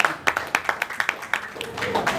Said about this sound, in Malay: Tepuk tangan aja lo.